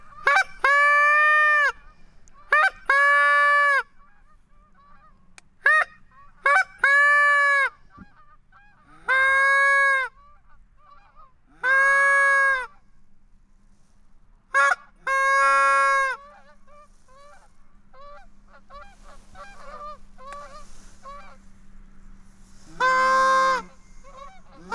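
Geese honking loudly and close by in a backyard, repeated bursts of two or three sharp honks spaced by quiet pauses, with a faint steady hum underneath and no talking.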